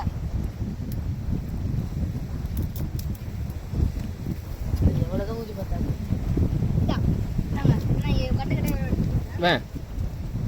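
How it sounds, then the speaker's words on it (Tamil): Strong wind roars across a microphone aboard a fishing boat at sea off Kollukkadu, a steady broadband rush with gusty surges, while people talk over it. "காத்து ரொம்ப வருதுடா உள்ள."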